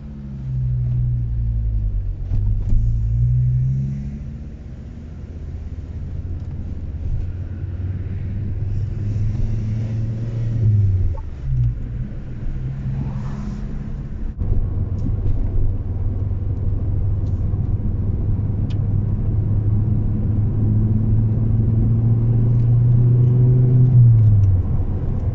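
A Ford Focus ST with a new turbocharger core drives on a road test, its engine droning and rumbling as it repeatedly accelerates and eases off over a long stretch, loud and close with no voices.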